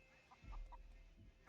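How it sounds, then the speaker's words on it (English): Cucco chicken in The Legend of Zelda: Ocarina of Time randomizer gameplay gives a few short, faint clucks in quick succession over a low game-audio rumble. "I just got eaten by a chicken."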